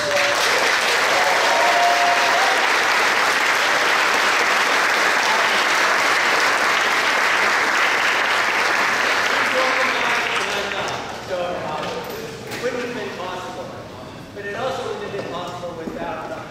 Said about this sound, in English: maybe we can give her a round of applause